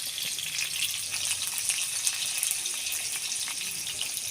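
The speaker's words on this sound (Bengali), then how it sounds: "নুন দিয়ে আমি এবার আলুটা ভালো করে ভেজে নিই" Potatoes frying with salt in a pan for chicken keema curry give a steady, close, bright sizzle that holds evenly throughout with no voices.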